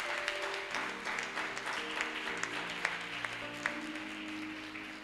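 A church congregation applauds, a dense, sustained clapping with scattered louder claps, heard over a steady sustained tone from instruments or an organ.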